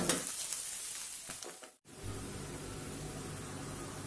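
Onion and fresh curry leaves sauté in a pan for fish kulambu, hissing steadily with stirring scrapes, then a brief dropout before a fuller, lower sizzle resumes.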